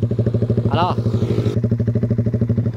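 A Raider 150 motorcycle engine idles close by, hot and smoking from worn piston rings, a loud, fast, even putter of regular firing pulses throughout, with a brief voice over it.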